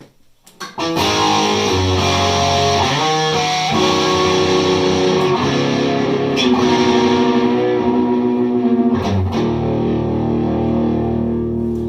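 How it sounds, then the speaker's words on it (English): Electric guitar played through a BOSS distortion pedal with the drive raised, giving a sustained, saturated tone of ringing chords and riffs, loud and close, alone for about eleven seconds after a brief quiet start. "it's usually a little more on the distortion side with the drive up a little"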